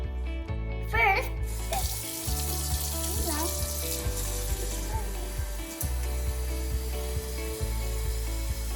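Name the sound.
tap water filling a Ziploc bag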